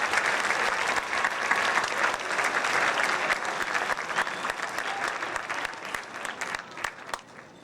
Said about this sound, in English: Applause to our winners this evening for staff and faculty.